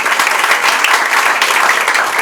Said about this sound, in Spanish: Creo que eso también merece un aplauso de todos nosotros